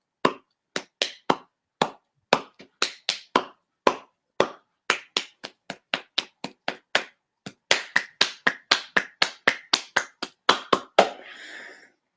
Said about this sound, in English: if I put my hand here, or I cup my hands, each position is a different sound